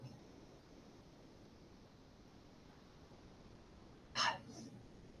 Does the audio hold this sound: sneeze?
yes